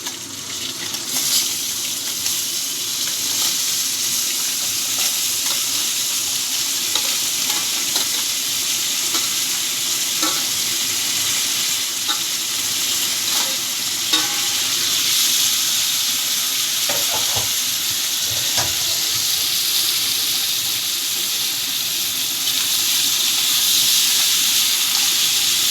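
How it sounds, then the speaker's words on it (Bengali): Crab legs fry in hot oil in a pan with a dense, steady sizzle and bubbling hiss, with occasional stirring clinks and scrapes throughout. "এবার কাঁকড়াগুলোর পাগুলো ভেজে নিচ্ছি।"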